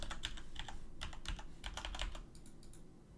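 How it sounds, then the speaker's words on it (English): Rapid close typing on a computer keyboard, bursts of crisp key clicks in quick irregular runs, then a few lighter taps trailing off near the end. "And type testing again."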